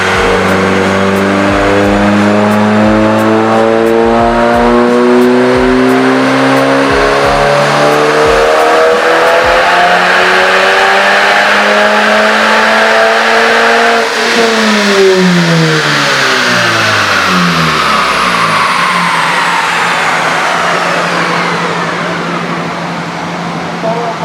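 A 2018 Honda Civic Type R FK revs hard on a dyno, loud and close, climbing steadily through the gears with rising harmonics, then a long sweep down as it lifts off; voices carry faintly beneath.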